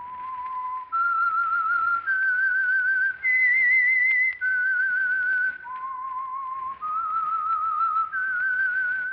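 A melodic whistled signal tune from an old-time CBS radio mystery program, clear and alone, moving in a rising then falling series of sustained pure notes with short breaks between phrases.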